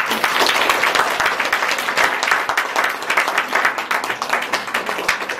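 An audience at the inauguration of a renovated centre with a Raksha Bandhan celebration claps loudly, a crisp, rippling burst of many hands that swells and dips slightly while staying strong.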